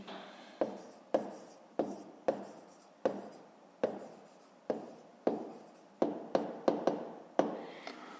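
Pen writing down the answer to a 5th-grade math exercise, with a steady series of close, distinct strokes and taps roughly every half second and brief scratching between them.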